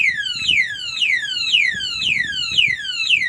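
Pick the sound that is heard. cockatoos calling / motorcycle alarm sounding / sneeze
motorcycle alarm sounding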